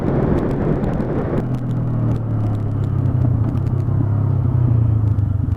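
A 2020 Honda CB500F motorcycle runs at motorway speed with strong wind buffeting, a steady engine drone under broadband wind roar that stays loud and constant throughout.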